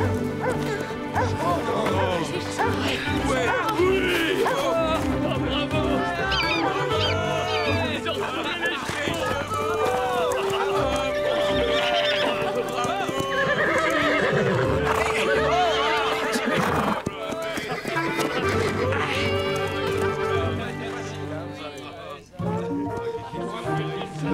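Horses neigh and whinny repeatedly in an animated outdoor scene, their cries mixed with excited voices, background music and busy movement throughout.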